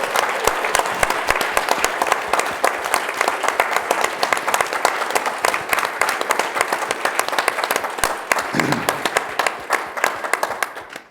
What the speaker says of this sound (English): So let's give Ben our own round of applause.